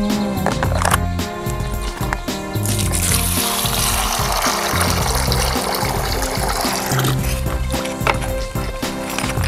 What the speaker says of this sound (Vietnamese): Rửa lắc vài lớp cho mấy cái mài đậu này nó sẽ chắc ra.